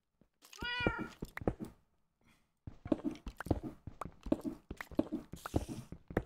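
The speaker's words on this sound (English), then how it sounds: "Calling him that because he's a Siamese." A Siamese cat in a video game lets out a single clear meow, then a run of soft clicking and tapping sounds follows at close range.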